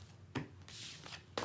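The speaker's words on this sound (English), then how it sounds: "Let's pull some cards." Tarot cards being shuffled by hand for a reading, soft brief riffles and slides close by, a few quick bursts with no talk.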